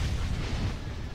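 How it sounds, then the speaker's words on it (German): Explosions in the space strategy game Star Wars Republic at War, a dense rumbling low boom of battle blasts filling the short moment at steady loudness with no voice over it. "die ganzen Explosionen kommen hoffentlich hauptsächlich von deren"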